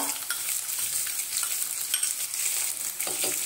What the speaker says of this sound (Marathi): आणि तोही आपण 2 मिनिटं परतून घेऊया